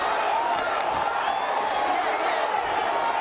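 A boxing arena crowd roars steadily and loudly throughout a bout, a dense wall of cheering and shouting with voices mixed in.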